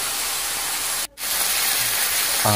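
Onion, chili, ginger and whole garam masala sauté in hot oil for a rohu fish kalia, a steady close hiss that cuts out briefly, then resumes with a faint clink near the end.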